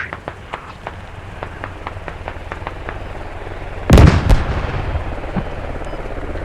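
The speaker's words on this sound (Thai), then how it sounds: "แม่งยิงรถระเบิดเลย" A sharp, booming vehicle explosion in a military video game bursts out midway, loud and close, over a steady background of rapid distant gunfire cracks.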